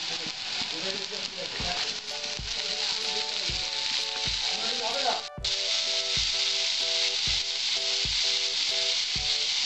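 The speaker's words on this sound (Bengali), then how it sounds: "আমার পেঁয়াজটা লাল লাল করে ভাজা হয়েছে, এবার আমি পুঁই পিটুলিগুলো দিয়ে দিচ্ছি।" Pui shak seeds frying with onion that has been browned red in a pan, giving a loud steady sizzle with occasional stirring scrapes and a brief clatter midway.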